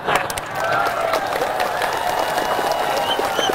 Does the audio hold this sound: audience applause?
yes